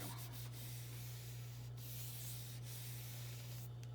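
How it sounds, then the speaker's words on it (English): Steady, soft rubbing over a surface continues throughout, faint and close, with a constant low hum underneath and no talking. "And then I'm going to rub."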